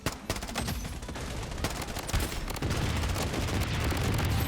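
Rapid bursts of automatic hip-fire gunfire in the shooter game Blood Strike, dense sharp cracks repeating in quick succession, loud and close with continuous game ambience underneath.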